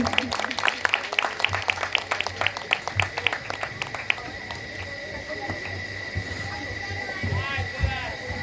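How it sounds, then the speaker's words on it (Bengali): An audience applauds after a stage play performed by a local women's committee. The clapping is sparse and rhythmic for about four seconds, then gives way to someone talking over a light background murmur. "আপনাদের কেমন লাগলো একটু করতালি দিয়ে যদি বুঝিয়ে দেন"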